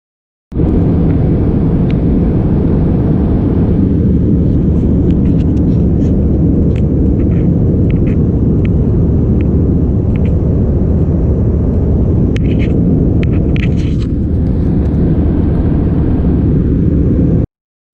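An Indigo airliner on its takeoff run from Mumbai bound for Hyderabad, heard from inside the cabin as a loud, steady low engine roar and rumble that holds for the whole stretch, with faint thin clicks and rattles above it.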